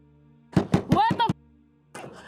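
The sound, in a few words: knocking on a door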